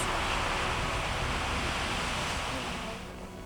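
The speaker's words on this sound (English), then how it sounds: "Water spewing from the earth." Beehive Geyser erupting in winter at Yellowstone, water spewing from the earth in a steady, loud, broadband roar and hiss that holds for several seconds before easing slightly.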